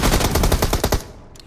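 Rapid automatic gunfire from the PUBG Mobile battle royale game, a fast burst of about a dozen close, loud shots for one second, then fading into a quieter tail.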